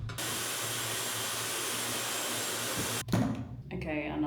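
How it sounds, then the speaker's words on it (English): A Dyson hair dryer blows steadily and loudly for about three seconds, then cuts off, leaving brief rustling and handling noise. "they do have a Dyson hairdryer in here, which is so slay. And obviously I'm gonna dry my hair"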